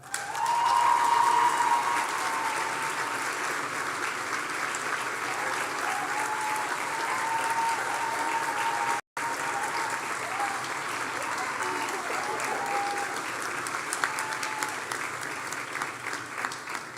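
An audience at a Health Sciences graduation ceremony applauding the graduates, a steady, loud, sustained round of clapping from a large crowd that barely varies throughout.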